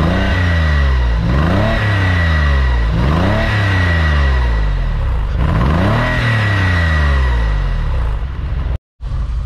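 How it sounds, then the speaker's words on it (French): A Porsche 911 (996) engine revs hard four times in a row, each rev climbing and falling in pitch, loud and close, with a brief dropout near the end. "Je vais me faire mon petit son moteur là."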